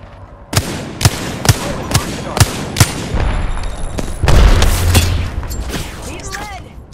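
Gunfire in the video game Apex Legends, on the winter express map with the character Bangalore: a loud, evenly spaced run of about six single shots, then a denser rumbling volley with brief chirpy game sounds and a voice underneath.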